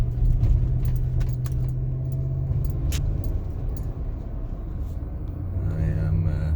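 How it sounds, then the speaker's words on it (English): Keys jangle constantly and close by while a big Suburban drives along, its low engine rumble steady underneath, with a brief change in engine note near the end. "I am driving my trusted Suburban, fairly big vehicle."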